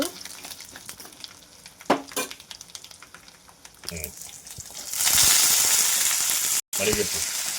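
Crushed garlic dropped into hot oil for a tempering, building into a loud, steady sizzle with stirring clatter before it, close and continuous.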